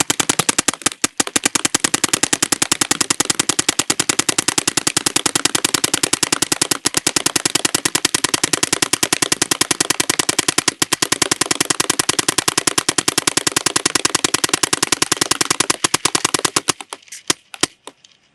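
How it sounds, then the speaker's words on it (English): A Dye DLS paintball gun firing a long rapid burst through a loaded hopper, a steady stream of sharp pops for about seventeen seconds before stopping abruptly, loud and close. "let's shoot through a hopper"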